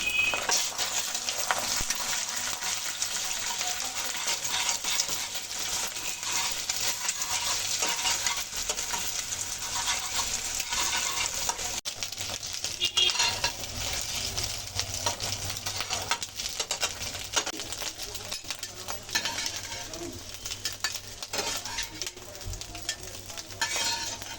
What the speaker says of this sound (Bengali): এবার ভালো করে ভুজিয়া করে নেবেন